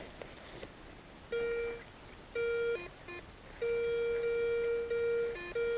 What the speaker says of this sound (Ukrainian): такі сигнали Аськи вже.